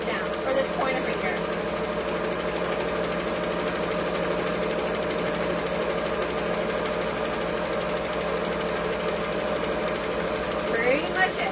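A sewing machine stitches fabric at high speed with a steady, rapid mechanical chatter that runs continuously and close by, with faint talk and rustles at the edges.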